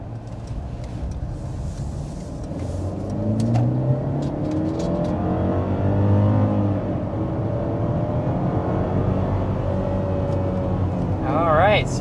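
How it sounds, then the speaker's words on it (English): 2024 Mercedes GLE 350 engine building from inside the cabin as the SUV accelerates to 60 mph, a smooth rising whir stepping up through gear changes, moderate and steady, with a brief voice near the end. "accelerating up to 60 miles per hour in the GLE 350"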